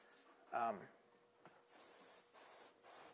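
A brief voice is followed by three short bursts of spray paint hissing from a can, close by, with small pauses between them, as paint is sprayed for taxidermy work.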